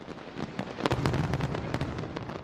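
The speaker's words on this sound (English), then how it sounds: "throwing fireworks up very high into the sky" Fireworks burst high in the sky in a rapid series of sharp cracks and booms, overlapping with crackling tails and a loud, continuous rumble of distant explosions.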